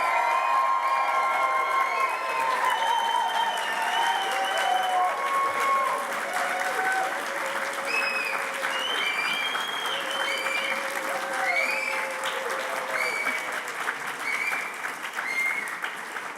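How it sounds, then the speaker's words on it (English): Crowd at a university graduation ceremony for the class of 2026 cheering and applauding, a sustained, dense roar of clapping mixed with whoops and high shouts, loud and steady throughout with no single voice standing out. "let's give a big cheer for the graduating class of 2026"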